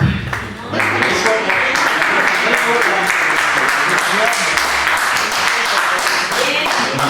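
Sustained audience applause during an interview event at a school of arts, loud and continuous after a short opening, a thick, even roar of many hands clapping nearby.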